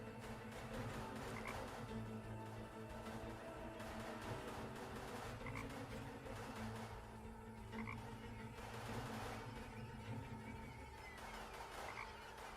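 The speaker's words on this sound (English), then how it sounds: "We'll have the frog up here." A frog in the adventure game Chaos on Deponia croaks in repeated low calls every couple of seconds over a steady, dense background ambience, with no talking.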